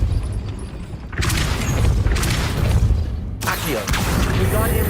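Depulso spells fire in the Hogwarts Legacy video game, two loud forceful blasts a couple of seconds apart rising out of a dense, continuous layer of game noise.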